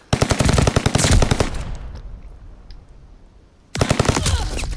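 Rapid automatic gunfire from a video game gun comes in two loud, close bursts of fast regular shots. A short quieter gap with a fading tail separates them, and no voices are heard.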